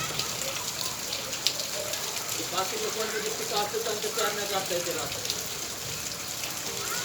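Steady rain falls outdoors in June, a soft, even hiss that continues underneath someone talking throughout.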